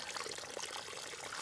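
Water sprays and hisses steadily from the small weeping holes of a pressurised livestock watering hose, a constant broadband trickling rush heard close and fairly quiet.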